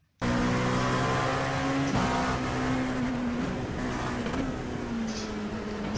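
LMP1 and LMP2 prototype race car engines in the iRacing sim at Sebring, a loud, steady, close engine drone kicking in abruptly and holding at high pitch with slight shifts in tone.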